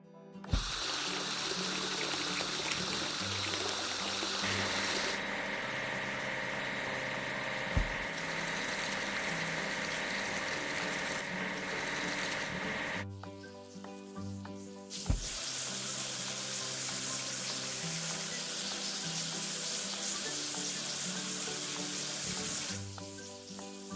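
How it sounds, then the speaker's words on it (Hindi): Steady spraying water washing a toy concrete mixer in a kids' train video game, a loud continuous hiss that cuts briefly around the midpoint and then resumes, with tonal game sounds beneath. "हमें कंक्रीट मिक्सर को धोने की जरूरत है।"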